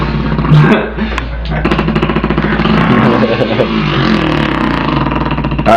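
A person's voice imitates a dirt bike engine, a loud, buzzy, revving drone held close to the microphone for several seconds, rising and falling like throttle blips.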